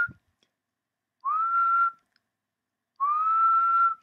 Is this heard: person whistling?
yes